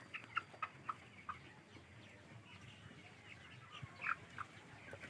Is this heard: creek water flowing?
no